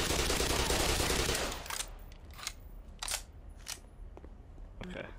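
Gunfire in the video game Black Mesa: a dense, rapid automatic burst at first, then several separate sharp shots spaced apart, with a voice murmuring underneath.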